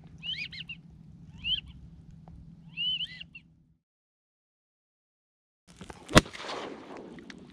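A single sharp shotgun blast fired at ducks in a Louisiana saltwater marsh, close and loud, following a few whistling duck calls and a brief silence.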